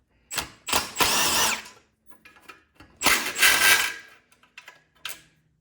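A Troy-Bilt snowblower's carburetor intake is taken off with hand tools, giving a few short bursts of clicking, ratcheting and metal scraping separated by quiet pauses, close up with no talk.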